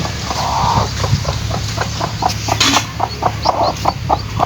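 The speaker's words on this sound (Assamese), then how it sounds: "মুৰ্গীটোক চাওক" A hen clucks repeatedly in short, rhythmic bursts, close and fairly loud, over faint outdoor background noise.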